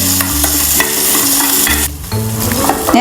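Curry leaves crackle and sizzle in hot oil for a chicken curry, a loud, dense frying hiss with scattered pops and stirring scrapes, close and continuous, briefly dipping before resuming.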